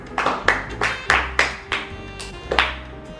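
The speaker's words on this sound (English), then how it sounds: "they clap like this" A single person claps by hand in a small, loose rhythm, about eight sharp, close claps spaced unevenly with short pauses between them, with no talking over them.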